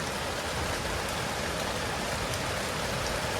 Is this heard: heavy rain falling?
yes